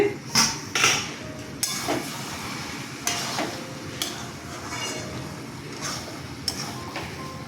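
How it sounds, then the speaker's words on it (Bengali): A lid coming off a cooking pot of Bengali chholar dal with coconut and milk, several sharp metallic clanks and scrapes over a soft bubbling simmer, close and fairly quiet. "ঢাকনাটা খুলছি"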